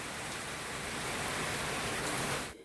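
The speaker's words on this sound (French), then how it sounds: "il pleut des trombes" Heavy rain pouring down in a dense, steady roar of hissing drops, loud and unbroken, cutting off abruptly at the end with no voices.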